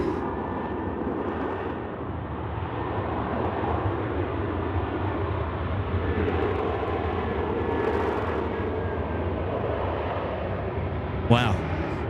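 Airliner arriving from Melbourne at Sydney Airport at night, a broad steady jet roar at moderate distance that holds throughout, with a brief sharp click near the end.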